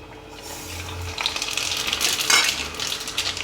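Mustard seeds, cumin, dry chillies, garlic and curry leaves hit hot oil and sizzle loudly, a steady frying hiss that swells with crackles partway through, close and alone.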